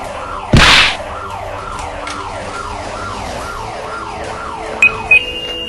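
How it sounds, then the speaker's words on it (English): Sirens wail in a steady rising-and-falling cycle, loud and close, repeating evenly throughout, with a brief sharp burst near the start and a couple of short electronic blips near the end. "let's stop those sirens before they deafen our ears"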